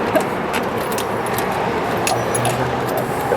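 Keys jangle and rattle close by while a door is being locked, a steady metallic clinking against a faint background hum.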